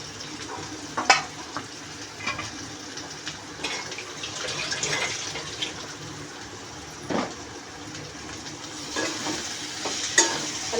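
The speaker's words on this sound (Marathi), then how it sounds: "त्याच्यात आपण आता हे बटाटे कट केलेले परतून घ्यायचे" Boiled potato pieces sautéing with onion and chili in a pan, a soft, steady sizzle broken by scraping stirs and clinks at close range, with no voices.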